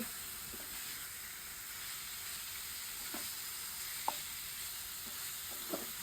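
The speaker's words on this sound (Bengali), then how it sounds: "মাছটা দিয়ে মশলাটা কষানো হয়ে গেছে মাছটা দিয়ে একটু পানি দিয়ে দেবে" Hilsa fish simmering with cooked-down spice paste in a pan, a steady soft sizzle under a broad hiss, with a few faint stirring clicks and light taps scattered through.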